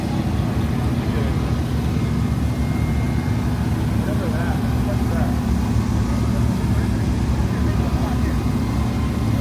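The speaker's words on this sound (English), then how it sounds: "He got a Corsa exhaust on it." A modified car engine fitted with a Corsa exhaust rumbles steadily and loudly at a Detroit car meet, a continuous low drone with crowd chatter and talk underneath.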